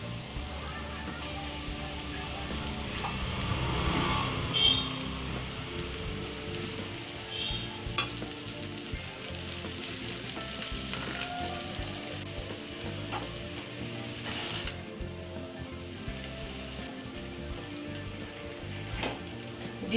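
Chow mein noodles stir-fried in a pan with boiled vegetables: a continuous close sizzle with scraping stirs and occasional clatters, steady throughout with a brief swell early on.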